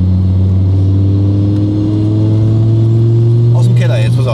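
An Audi A4 with a five-cylinder engine pulls hard on the road, a loud, steady low drone holding a constant pitch close by. Near the end, a brief clatter and shift noise break in.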